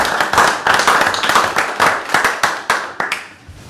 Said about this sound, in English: we could all give her a round of applause